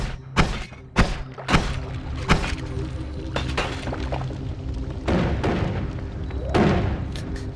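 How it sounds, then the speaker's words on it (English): Explosions in the video game Noita: a quick run of sharp booming blasts in the opening seconds, then further muffled thuds and crackling debris, loud and close with no talking. "You know it's gonna be a good start when you hear 3 explosions in 2 seconds."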